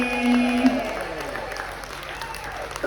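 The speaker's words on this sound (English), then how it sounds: "Keep that round of applause going for the one, the only, the beautiful Sharon and Jamie from Sharon at Sea." A crowd applauds steadily for two vloggers on stage during a cruise ship Q&A session, a dense clapping wash that continues under a host's amplified voice.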